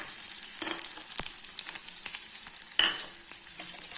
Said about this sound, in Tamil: போட்டு நல்லா வதக்கிக்கலாங்க.